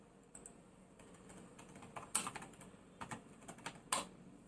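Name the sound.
typing on a computer keyboard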